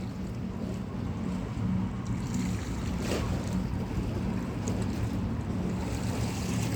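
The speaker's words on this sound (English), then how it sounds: "Listening to the water and watching the boats through the window." Boats on a river in London, a steady low engine drone with water wash and some wind, continuous and fairly near, without talk.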